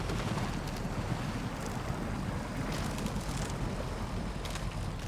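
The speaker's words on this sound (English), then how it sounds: "that's pretty deep water hole, honestly." A truck in the SnowRunner video game drives through a deep water hole, giving a steady, loud rushing wash of water and engine noise that holds throughout, with no talk over it.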